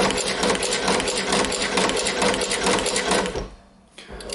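A walking foot leather sewing machine driven by a servomotor stitches steadily at close range in a rapid, even mechanical run, then slows and briefly stops near the end before starting up again.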